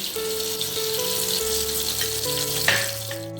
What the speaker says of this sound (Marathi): सर्वप्रथम मी या कढईमध्ये थोडंसं साधू तूप टाकते